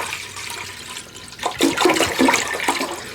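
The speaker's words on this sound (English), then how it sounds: "we need 8 cups of water. And we're going to put that in the pot." Eight cups of water pour into a pot for a syrup, a continuous rushing splash that swells and grows louder partway through, with no voices over it.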